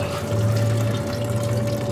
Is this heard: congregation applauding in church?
no